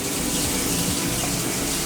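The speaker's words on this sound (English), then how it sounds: "I come to the sink and I turn on the faucet." Kitchen faucet running steadily into a sink while rinsing a pot, a continuous close, full water rush with no voices.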